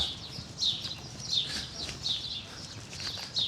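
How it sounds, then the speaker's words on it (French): Birds sing along a city street lined with steep stairways in New Zealand, their high chirps recurring every half second or so, faint and somewhat distant over soft outdoor background noise. "Oiseaux qui chantent, que vous entendez, j'espère."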